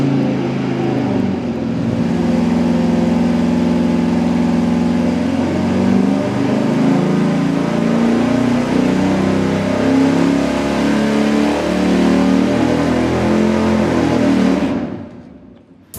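A low-compression Chrysler 440 V8 fires up on an engine dyno and runs loud and steady with a deep, throbbing roar held for about thirteen seconds, then is shut off and winds down quickly.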